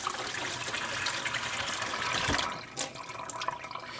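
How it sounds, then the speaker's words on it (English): Water splashes and trickles as a basting brush is lifted out of a container of hot water in a home kitchen, a brief close wet slosh near the end. "Gonna get my brush out of the hot water."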